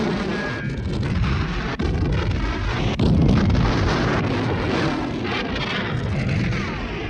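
Ammunition dump exploding in the 1977 war film A Bridge Too Far, a dense, loud, continuous roar of blasts and rumbling detonations with sharp cracks scattered throughout; no talking.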